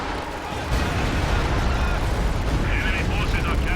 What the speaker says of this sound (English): The Stuka barrage looks like it's targeting this garrison here